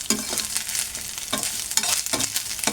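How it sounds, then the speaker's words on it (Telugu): Egg fries and is stirred through a hot pan for egg fried rice, a close sizzle broken by repeated rhythmic scrapes and knocks of a spatula, with no talking. "ఎగ్ వేసుకొని ఇలా దీంట్లో మిక్స్ అనేది చేసుకోవాలి ఫ్రెండ్స్"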